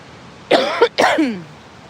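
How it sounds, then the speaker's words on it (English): Two rough, harsh coughs in quick succession, close and fairly loud, with a short gap between them and quiet around. "Mostly just coughing like me, but worse"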